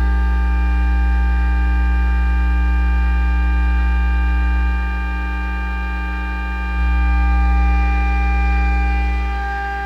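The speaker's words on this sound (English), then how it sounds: "Isn't that a nice hum?" A running Muller motor gives off a loud, steady electrical hum with strong even harmonics, unbroken for the whole stretch, dipping slightly in level midway before returning, with no voices present.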